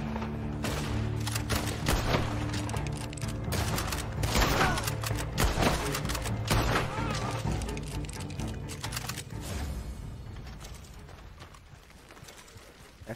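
Gunfire crackles through a western-style movie scene where wagons of moonshine are being guarded, dense overlapping shots and clattering noise filling the whole stretch, loud and continuous, slowly easing toward the end.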